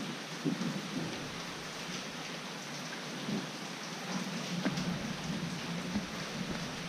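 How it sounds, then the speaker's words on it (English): Steady night rain pours in Sanur, Bali, with soft low rumbles of thunder rolling beneath the constant hiss of drops hitting surfaces, heard alone without voices. "Is that thunder? Listen."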